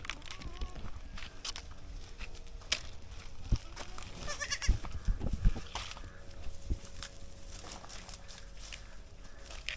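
Goats bleat now and then on a backyard livestock farm in Jamaica, heard amid steady outdoor background noise with faint footsteps and scattered knocks, the calls moderately close but not loud.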